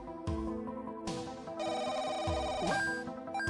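A phone ringtone in the life-simulation video game Life is a game, sounding as a call to family: bright synthetic tones repeat in short bursts over a steady game music bed, fairly loud and close, with no speech.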